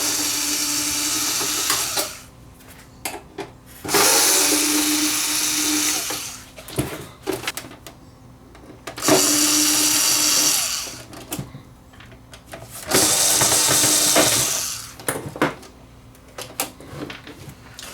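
A JoustMax cordless screwdriver takes apart a VCR, its high whirring motor running in three separate bursts of about two seconds each, with small clicks and handling noises in the pauses.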